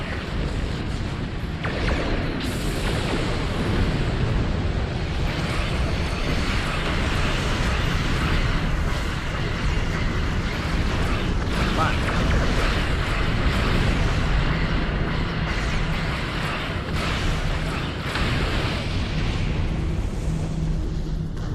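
A starship fires forward torpedoes during space combat in Star Trek Online, a dense, continuous roaring rumble with repeated heavy bursts and blasts throughout.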